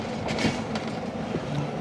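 A train pulls into a platform at a Karachi railway station, giving a steady rumbling rail noise with faint clicking wheels and a few brief squeaks over a short span, fairly distant and unbroken by speech.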